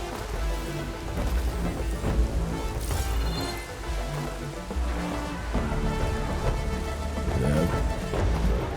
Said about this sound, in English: And we're sort of seeing our two-dimensional rain falling.